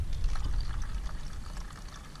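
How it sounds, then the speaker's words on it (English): Old gasoline pours out of the fuel tank of a Troy-Bilt 8000-watt generator with a 15 HP Briggs & Stratton engine, a short continuous liquid gush with a low rumbling undertone. "And gas is coming out."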